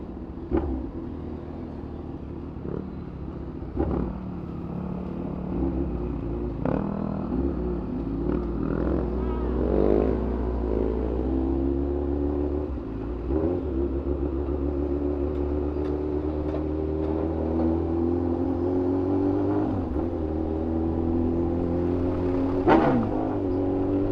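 Motorcycle being ridden on the road, a steady engine drone with shifting pitch as it accelerates, with brief talk in the background.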